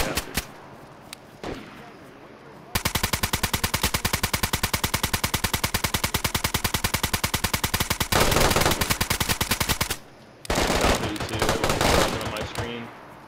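Video game gunfire during a raid: long rapid bursts of automatic fire, loud and dense, broken by short pauses, with excited voices talking before and after.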